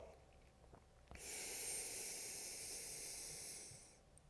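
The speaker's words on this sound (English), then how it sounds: "I'm gonna take a smooth inhale." A long, smooth inhale is drawn close to the microphone, rising to a steady airy hiss that holds for a few seconds and then fades.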